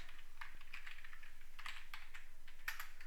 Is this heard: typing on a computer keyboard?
yes